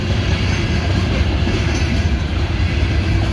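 A massive CSX coal train rolls past close by as its mid-train distributed power locomotives go through, giving a loud, steady roar of wheels and wagons with a faint clickety-clack rhythm and no pauses.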